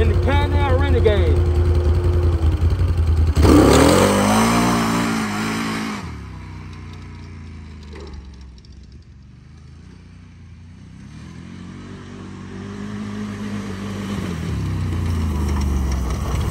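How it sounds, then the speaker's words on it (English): Can-Am Renegade ATV in sport mode and two-wheel drive, its engine revving loudly up close, then dropping to a lower rumble before building back toward a strong drone. "This is sport mode and two-wheel drive in the Pan-Am Renegade."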